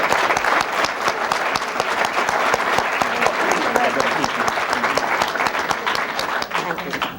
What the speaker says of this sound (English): would your audience give them a great round of applause?